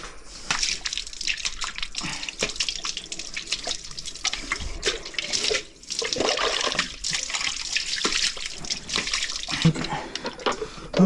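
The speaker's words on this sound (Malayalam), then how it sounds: "എന്നിട്ട് നമുക്ക് അകട് കഴുകാം." Water splashes and pours continuously while a buffalo's udder is washed after milking, close and fairly loud, with a brief pause partway through.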